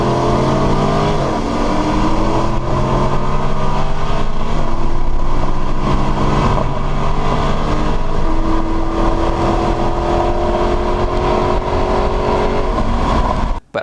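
A cammed 5.7 Hemi Dodge Charger and a 392 Charger race down a quarter-mile drag strip, engines roaring loud and close as the revs climb through repeated gear shifts before cutting off abruptly.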